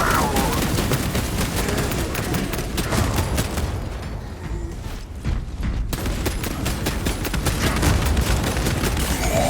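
Rapid, sustained weapon gunfire in the video game Space Marine 2, loud and close, with dense repeated shots that thin out briefly in the middle before resuming at full intensity.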